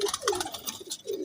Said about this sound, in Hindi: फिरोजपुरी कबूतर नर है, ये नर है